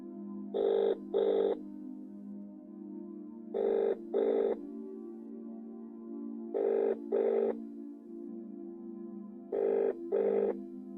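A telephone rings in four double bursts, each pair of trills separated by a pause, steady and clear over a low continuous hum.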